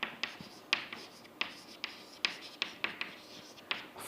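Pen or marker writing out a Maclaurin series expansion by hand, a run of quick, close scratching strokes with sharp ticks between them, fairly quiet and with no talking.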